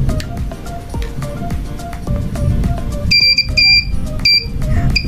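A simple homemade metal detector gives a steady series of short, loud electronic beeps, close by over a low background hum, and switches to a higher pitch partway through.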